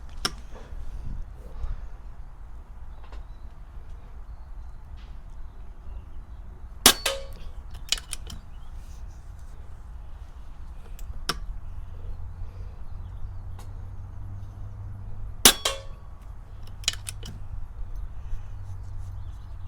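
Airguns fire at a benchrest shooting match, a handful of sharp, isolated snapping shots scattered irregularly over a quiet background hum.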